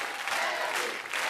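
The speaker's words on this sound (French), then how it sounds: "On applaudit quand même très très fort Cyril Hanouna et Émilie." A studio audience applauds loudly for the hosts of a French television show, a dense, steady wash of clapping that continues without a break.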